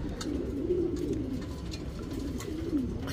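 A heavy-breed Dhooma Rekdhar female pigeon cooing, a low soft rolling coo repeated steadily and close, alone with no talk.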